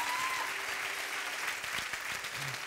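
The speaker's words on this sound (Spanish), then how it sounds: "Aplauso." A church congregation bursts into applause, a continuous wash of clapping from a sizable crowd, fairly even and somewhat distant, lasting a few seconds.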